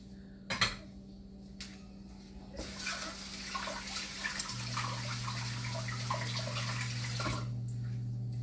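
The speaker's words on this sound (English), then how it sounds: "Let me rinse my hands real quick." Hands are rinsed under a running kitchen tap, a steady splashing rush of water after a few clinks of dishes, with a constant hum underneath.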